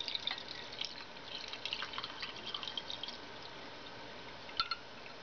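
Distilled heavy water is poured into a container, giving faint, intermittent trickles and drips, quiet and close with brief splashy bursts and no talking.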